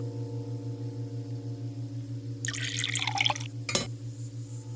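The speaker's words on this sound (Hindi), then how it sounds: "चरवाहे की पत्नी पानी लेकर आई और उसने एक ही घूंट में पूरा पानी पी लिया। गट गट गट।" A person gulps down a whole glass of water in one go, a short burst of wet swallowing sounds in the middle, heard over steady tonal background music.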